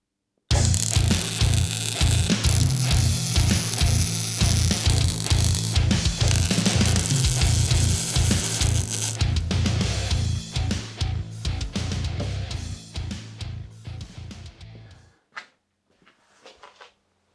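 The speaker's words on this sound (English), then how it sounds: "I'm just going to go ahead and weld it all up." A welder runs a steady series of rhythmic, crackling bursts while fixing a new wing onto a rusty Lada Niva, loud and close, with short pauses between tacks, then dying away into scattered faint clicks and quiet.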